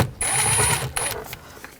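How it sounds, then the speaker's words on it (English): Phillips screwdriver turning screws out of the dash of a 2014-2020 Nissan Rogue, a short close mechanical whir and squeak in two bursts, followed by light clicks. "Using a Phillips head screwdriver,"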